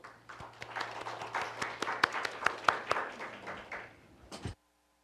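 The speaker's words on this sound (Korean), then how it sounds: "큰 박수로 환영해 주십시오" Audience applause at a joint policy debate held by a civic society support centre and the Gwangju city council, welcoming a speaker to the podium: dense, steady clapping for about four and a half seconds, then a sudden stop into silence.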